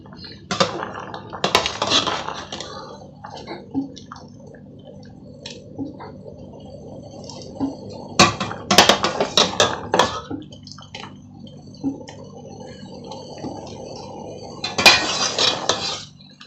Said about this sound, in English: I'm going to put it inside this cold water.